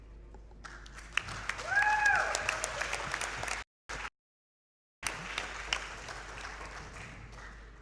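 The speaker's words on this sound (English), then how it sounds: "give yourselves a round of applause for being amazing" An audience at a Summer Games Done Quick 2017 speedrun marathon breaks into applause, a steady burst of clapping that briefly drops out before picking up again, with a little talking underneath.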